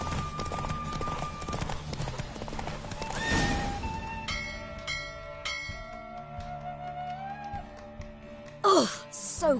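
In a video game horse race, rapid hooves clatter in a galloping rhythm as a horse whinnies, with music playing and a brief sharp burst near the end.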